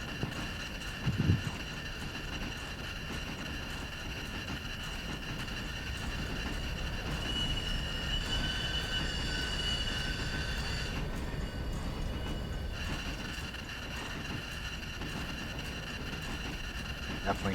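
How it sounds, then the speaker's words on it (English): Rail cars rumble along steadily in the video game Railroader, with faint metallic creaks and squeals, a low continuous train sound with occasional knocks. "Definitely hear the train leaning and creaking there."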